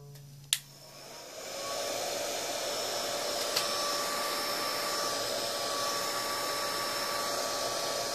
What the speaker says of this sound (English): get the heat gun and reduce the sleeve diameter ever so slightly